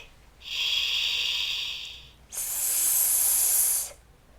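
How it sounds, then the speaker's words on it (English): A snake's hiss comes as two long, loud breathy bursts of about one and a half seconds each, separated by a brief pause, close and alone. "The snake hisses and slithers."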